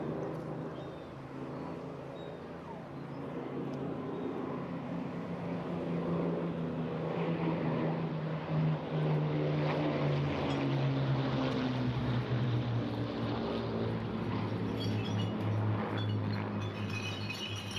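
A Bristol Blenheim, a British all-metal propeller aircraft, flying at the Eastbourne International Airshow, its piston engines giving a steady droning roar that swells and shifts in pitch as it passes, heard at a distance outdoors.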